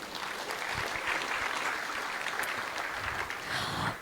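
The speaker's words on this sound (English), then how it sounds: "So a huge round of applause to them." A crowd in a temple room claps steadily during a Sunday love feast gathering, a continuous, moderately distant wash of many hands with no talking over it.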